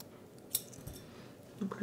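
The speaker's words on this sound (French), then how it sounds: "Donc le fil est assez dur hein, à couper." Scissors snipping through crochet yarn at a table, a single faint close cut followed by light handling noises, with a voice speaking quietly nearby.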